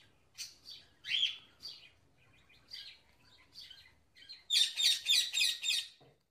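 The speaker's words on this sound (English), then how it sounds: "P for parrot." A parrot gives a series of shrill, high chirping calls in repeated bursts, starting with scattered squawks and building to a loud, rapid run of calls near the end.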